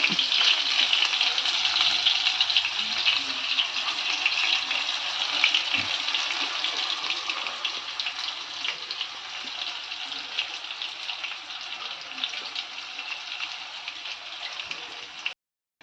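Malai chicken pieces frying in butter over low heat in a pan, a steady, even sizzle with fine crackling that continues unbroken throughout, with no talk.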